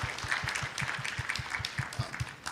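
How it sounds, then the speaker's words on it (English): An audience at the Canada Africa Innovation Festival gives conference panelists a short round of applause, with rapid steady clapping that is moderately faint and heard alone. "Please, another round of applause for the panelists."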